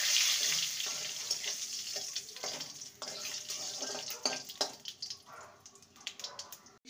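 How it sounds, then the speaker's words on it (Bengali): Tempering of dried red chilli, bay leaf and five-spice seeds frying in oil, a bright hissing sizzle with scattered clicks and pops, fading somewhat as irregular stirring knocks continue near the pan. "একটা শুকনো লঙ্কা আর একটা তেজপাতাকে 2 টুকরো করে দিলাম। ফোড়নটাকে কয়েক সেকেন্ড ভেজে নেব।"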